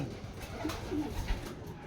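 Racing pigeons cooing softly in a loft, two or three low throaty coos close by over a steady ambient background, with no talking.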